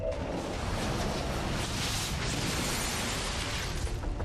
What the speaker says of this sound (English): There's my explosion.